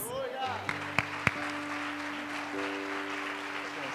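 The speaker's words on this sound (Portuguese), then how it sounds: "para o Senhor, aplauda mais forte" A church congregation claps during a Baptist worship service, steady applause running under a voice leading the crowd, with a couple of sharper claps standing out near the start.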